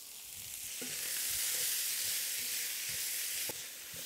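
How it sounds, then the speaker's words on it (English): Diced onion, carrot and celery fry in a pan for a cottage pie base, giving a steady broadband sizzle with occasional soft stirring knocks, close and moderately loud, with no voices. "I want to put that in and just fry it until everything is nice and"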